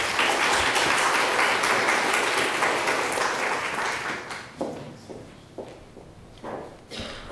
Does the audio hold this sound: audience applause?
yes